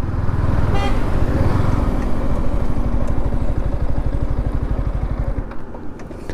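A motorbike climbs a rise among the marked trees of Tapovan in Nashik, its engine close and loud with a steady, rapidly pulsing drone that eases off near the end.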